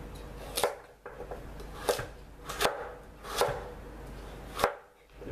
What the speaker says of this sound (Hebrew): ואז חותכים לפריסות.